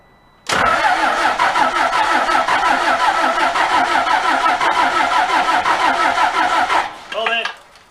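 A Cummins 24-valve diesel engine cranks and fires, settling into a loud, close, rhythmic chugging run for several seconds before cutting off with a short stutter; voices talk in the background.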